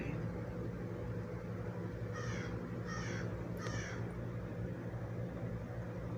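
A crow at a bird feeder gives three distinct caws, evenly spaced about a second apart over a steady low outdoor hum, with no voices.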